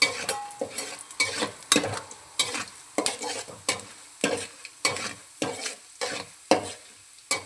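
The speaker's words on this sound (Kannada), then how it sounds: "ಹಾಗೆ ಸ್ವಲ್ಪ ಲೋ ಫ್ಲೇಮಲ್ಲಿ ಫ್ರೈ ಮಾಡ್ಕೊಂಡು ಹೋಗೋಣ." Urad dal and chana dal fry on a low flame for upma, with a soft continuous sizzle broken by regular scraping strokes of a spoon stirring the pan, close and clear.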